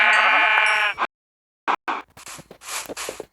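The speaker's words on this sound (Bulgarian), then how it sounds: "ще хвана овцата, защото ще ми трябва за легло" A sheep in Minecraft gives one clear, wavering bleat up close, then silence and a few scattered clicks and rustles of game noise.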